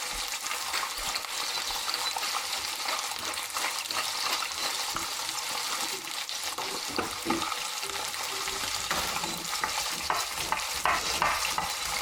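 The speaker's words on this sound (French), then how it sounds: "On va faire revenir donc ces morceaux de viande, de lapin, pardon." Rabbit pieces sear in a hot pan for mustard rabbit, giving a constant close sizzle and crackle with occasional stirring and scraping, no talking.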